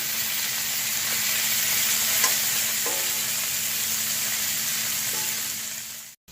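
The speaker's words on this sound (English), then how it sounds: "the sausages are getting nice and brown" Sausages brown in hot oil in a pan with a loud, dense, continuous sizzle and a few soft clicks, fading out at the end.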